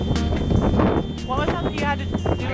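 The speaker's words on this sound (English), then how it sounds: "Because it's really windy out here." Strong wind at sea buffets a sailboat, a loud steady roar of wind noise with flapping gusts, while people talk over it.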